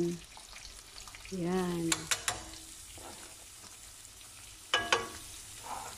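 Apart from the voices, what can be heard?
onion sautéing in a frying pan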